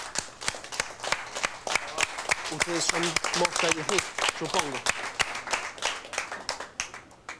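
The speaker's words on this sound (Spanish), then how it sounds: "Quiero pedir un cálido aplauso para el comisario Pelufo y todo nuestro" Scattered, rhythmic hand clapping from a small audience honoring a police commissioner and team, with someone speaking over the claps partway through.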